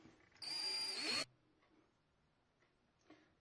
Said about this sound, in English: I'm going to drill the hole all the way through